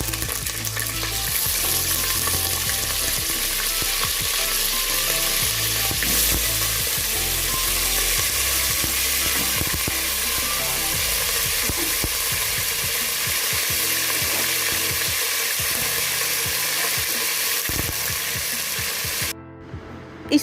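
Goat trotters for mutton paya frying in half a cup of oil inside a pressure cooker, a loud, steady, close crackling sizzle that runs nearly unbroken and then cuts off abruptly at the end, with no talking.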